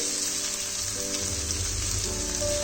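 Hilsa fish head and vegetables fry in a pan with a constant, dense sizzle, loud and close throughout, with no one speaking.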